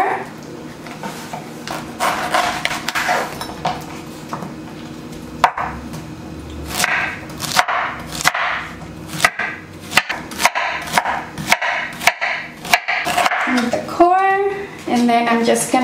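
A knife chops through a pineapple on a cutting board to halve it and cut out the core, giving a run of sharp, close cuts and knocks with a person talking between them.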